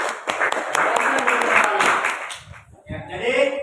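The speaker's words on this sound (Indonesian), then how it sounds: "Kita berikan aplaus untuk kelompok 3" A group of people applauds for a classroom discussion group, a dense wash of clapping that carries steadily before thinning out, followed by a voice speaking.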